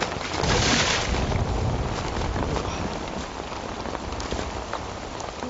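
A bath tap left running pours water into a filling bath, a steady, close hiss of splashing water with no pauses throughout.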